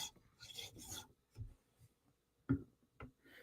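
A Chris Reeve Umnumzaan tanto knife's steel scrapes across a sharpening stone in a few short, quiet rasping strokes with pauses and soft clicks between them.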